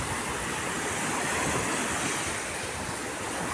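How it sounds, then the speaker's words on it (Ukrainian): Sea waves at a beach in Italy, a steady, loud wash of surf that holds a constant rushing hiss for the whole stretch, with no voices. "Море є живе, воно рухається постійно, тут завжди щось відбувається."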